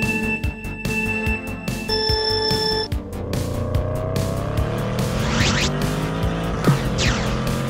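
Cartoon car race effects: revving engines, squealing tires and skids, with beeping electronic tones at the start and swooping pitch sweeps of cars racing past, loud and continuous.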